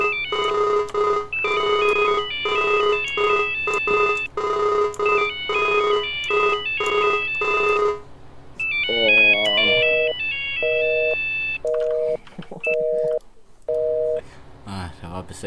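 In Farming Simulator 19, a phone line rings in steady repeated electronic bursts, then shifts to shorter tones and beeps as a call connects, loud and close.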